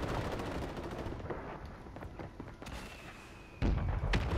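Rapid, dense gunfire from a video game shooter, with bursts of automatic fire and a loud, heavy volley near the end, and no talking over it.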